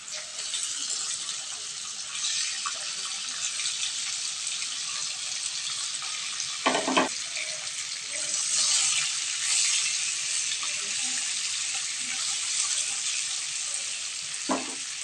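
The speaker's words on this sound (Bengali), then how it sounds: "তেলটা গরম হয়ে যাচ্ছে। আমি ডিমগুলো দিয়ে দিচ্ছি।" Eggs frying in hot oil in a pan give a steady, close hiss and crackle that runs through the whole stretch, broken by a couple of brief clinks of a utensil against the pan.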